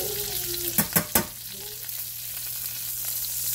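Onions tossed into a hot pan with a steak dinner cooking: three quick loud clattering hits as they land, then a steady sizzle carrying on underneath, close and with no talking.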